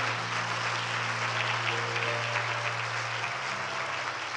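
Steady applause from a church congregation during a Spanish-language sermon, sustained and even for several seconds over a low humming tone, with no voices breaking through.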